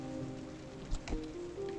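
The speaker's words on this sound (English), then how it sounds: "You won't be running around this rain without an umbrella." Rain falling in a video game trailer, a faint soft patter spread under sustained musical tones, with a couple of brief louder splashes near the middle.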